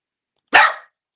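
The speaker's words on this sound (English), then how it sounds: "Sorry, that's my dog." A single sharp dog bark, close and loud, cutting off quickly with a short tail and no other sound around it.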